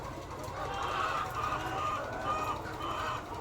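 Hens clucking in a coop as one seems ready to lay an egg, a continuous murmur of clucks at moderate distance, with no speech over it.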